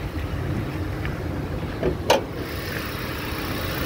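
A 2018 Toyota Rush automatic idling with the bonnet open, a steady low engine hum heard close by, with a brief sharp click and a short knock partway through, no talking.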